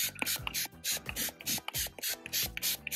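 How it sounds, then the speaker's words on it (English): Rapid rhythmic hisses from a trigger spray bottle applying cleaner to an RV surface, about a dozen quick even pumps close up, with no voices. "We're just gonna spray it on here."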